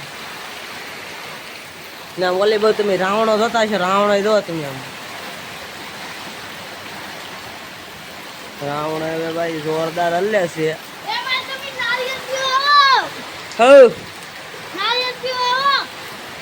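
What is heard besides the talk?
heavy rain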